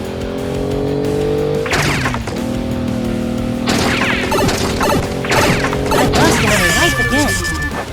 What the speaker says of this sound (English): The next obstacle is Glass Wall Crash.